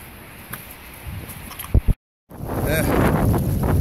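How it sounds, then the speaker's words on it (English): Strong wind buffets the microphone at an outdoor gold-digging spot, a steady broadband roar that gusts louder, with a brief dropout partway through and a few short knocks before it. "It's really windy."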